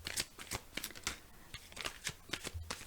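Tarot cards being shuffled by hand: quick papery riffles and slaps in uneven bursts, close but soft, with no talking.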